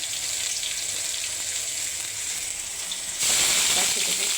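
Onion sizzles in hot oil with salt in a pan, a close steady frying hiss that turns louder and brighter near the end.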